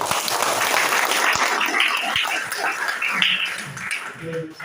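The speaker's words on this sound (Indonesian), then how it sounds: "Tepuk tangan dong." A crowd claps steadily in a dense wash of applause, with a few scattered voices rising over it.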